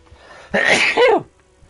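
One sharp sneeze from a character in the video game Kingdom Come: Deliverance, a quick intake followed by a loud explosive burst and short trailing exhale, close and alone.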